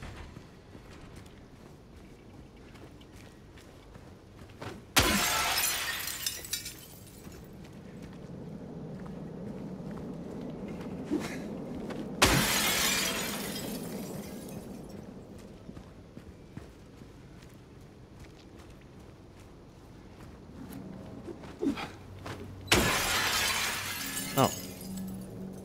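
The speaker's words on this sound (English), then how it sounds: "Said something about smashing windows" Window glass smashing in the video game Silent Hill 2 Remake: three separate sharp crashes of breaking glass spread apart, each trailing into scattered tinkling shards, between quieter footsteps and ambient rumble.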